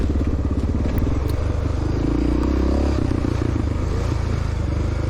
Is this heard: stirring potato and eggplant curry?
no